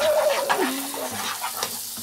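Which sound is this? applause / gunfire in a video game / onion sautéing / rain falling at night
onion sautéing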